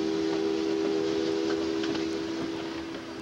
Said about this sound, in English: the engineer must start to sound the signal. 2 longs, a short, and a long.